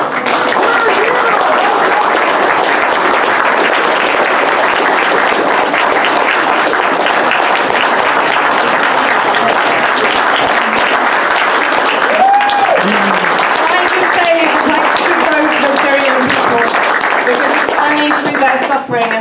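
Loud, sustained applause from a lecture audience fills the room without a break, with a few voices rising over the clapping.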